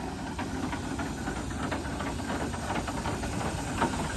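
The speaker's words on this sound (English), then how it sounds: "Look at that steam fired fan." A steam-fired fan hisses steadily at a threshers reunion, a continuous broadband rush with faint rhythmic engine pulsing underneath, loud and unbroken.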